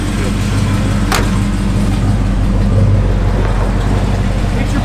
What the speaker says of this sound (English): Get this little rev so you can see the gauges all working.